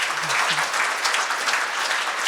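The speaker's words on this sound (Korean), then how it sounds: "감사의 말씀 박수 한번 주시면" Dense audience applause fills a hotel function room during a symposium on healthy aging, a continuous, fairly loud patter of many hands with no talking.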